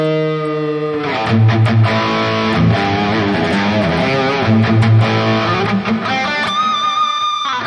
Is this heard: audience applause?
no